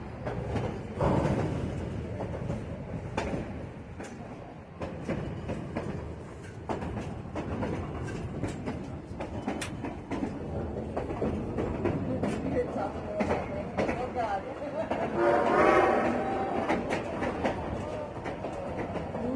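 The Durango and Silverton train rumbles past with rhythmic clacking and a broad, rolling roar that swells near the end, while people talk quietly in the background.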